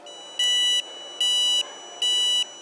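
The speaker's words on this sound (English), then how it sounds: "And I like the beeping so you don't forget to turn them off." An electronic turn signal beeps three times in an even rhythm, each tone a steady high pitch lasting under half a second, clear and close.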